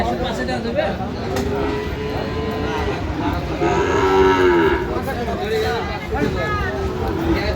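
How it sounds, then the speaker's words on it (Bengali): A Sahiwal breed bull calf, about six to seven months old, moos loudly at a crowded cattle market, a long drawn-out low call near the middle over constant crowd babble and nearby talk. "ষাঁড় বাচ্চা শাহিওয়ালের।"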